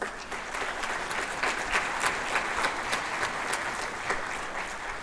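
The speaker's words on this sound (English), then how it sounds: "Let's give him a round of applause." Steady audience applause fills a middle school jazz band holiday concert, dense clapping held at an even level throughout with no talk over it.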